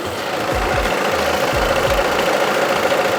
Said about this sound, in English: leave the engine running, send it up and drain off the excess